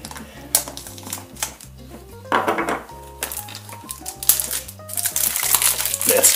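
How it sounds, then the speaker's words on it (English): Plastic wrap crinkles and tears off a My Friend Pedro collector's edition box in repeated close crackling bursts, over background music. "Let's unwrap this one."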